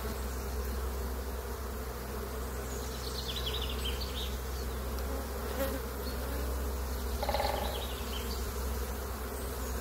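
Honeybees returning to a hive keep up a dense, steady buzz throughout, close and continuous, with individual bees droning past.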